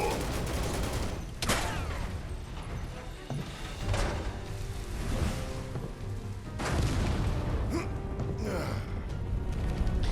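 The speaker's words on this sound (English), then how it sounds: "setting off explosions underground is probably a good idea right now" Gunfire and explosions in the Final Fantasy VII Remake video game, a dense barrage of shots with booming blasts and sharp bursts, loud and continuous throughout.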